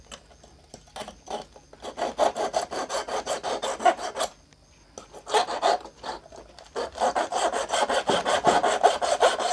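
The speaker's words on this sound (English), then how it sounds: "So I'm polishing both up and down the surface and the under of that" Metal parts of a flat iron being repair-polished by hand give off rough rasping strokes in quick bursts, pausing briefly between sets of back-and-forth rubbing, close and with no talk.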